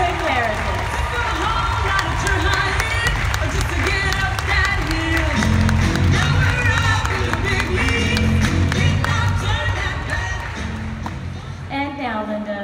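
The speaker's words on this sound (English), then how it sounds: "Let's give them a huge round of applause" Audience members at a leadership event applaud, with crowd clapping and cheering mixed into music and voices that stay prominent throughout before fading slightly near the end.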